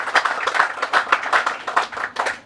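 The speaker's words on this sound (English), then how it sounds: "can we have another round of applause for the youth of Nadi?" Audience applause at a youth club award ceremony in Nadi, Fiji: dense, steady clapping from a crowd, fairly loud and continuous throughout.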